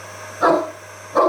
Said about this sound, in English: So Yam is a 70 kilo Great Dane